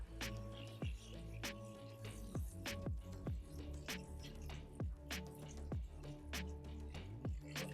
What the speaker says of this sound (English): And now I'm going to go ahead and add my water.